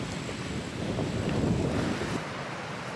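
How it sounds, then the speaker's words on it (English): Strong ocean surf rolls in at Pastillo Beach in Isabela, Puerto Rico, a steady broadband wash of breaking waves mixed with wind buffeting the microphone, loud and continuous with no voices. "the rest of the ocean beyond has pretty strong waves"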